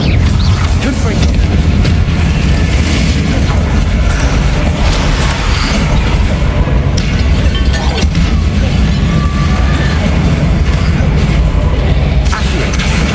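Repeated Confringo fire-spell blasts in Hogwarts Legacy, a dense run of booming explosions and crashes over a constant loud rumble of battle noise, with a voice calling spell names.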